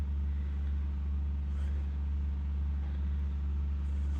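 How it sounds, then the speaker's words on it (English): A heavy engine from council contractors' machinery runs loudly outside a building in Hammersmith, London, giving a constant low droning rumble with no breaks. "Now that engine just got even louder."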